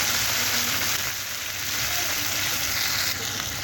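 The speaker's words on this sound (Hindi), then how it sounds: "अब हम कलेजी भून लेंगे।" Chicken liver sizzling in a pan of spices, a steady, dense frying hiss that stays even and close throughout with no pauses.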